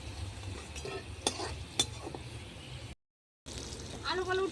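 Potatoes frying under a lid in a pan on a clay stove: a low crackling sizzle with a few sharp clinks of utensils, cut by a brief silent gap, then a voice talking over it.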